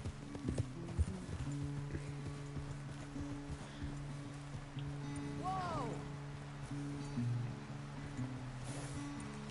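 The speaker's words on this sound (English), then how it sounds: "this is a dark, dark brown horse" A dark brown horse in Red Dead Redemption II moves with soft, faint hoof clip-clops near a stream, accompanied by a brief whinny-like call and rustling, while a person talks quietly over the scene.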